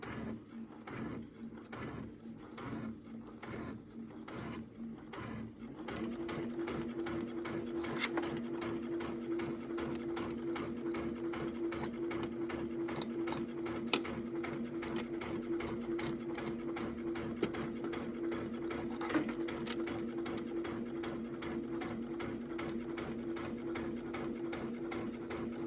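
A sewing machine stitches a fabric bag in a steady, rapid mechanical chatter, starting with short bursts and then running continuously at an even pace, close and fairly quiet.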